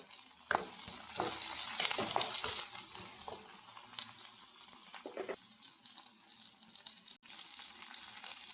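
Curry leaves and black pepper drop into hot oil and sizzle with a hissing spatter, followed by several stirring scrapes, close and moderately loud, the frying fading toward the end.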